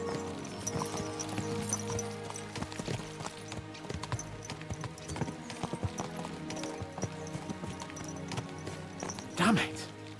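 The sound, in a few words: horses galloping, from the video game Kingdom Come Deliverance 2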